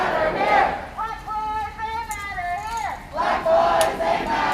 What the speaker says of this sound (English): Got a good sized crowd gathered in front.